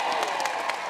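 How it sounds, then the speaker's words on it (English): A crowd at an outdoor statue unveiling ceremony claps to welcome the host, a brief, busy burst of applause mixed with faint cheering. "Please give her a round of applause."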